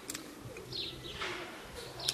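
A racing pigeon coos softly at close range in a loft during a homing race arrival, with a few faint chirpy calls over quiet background noise.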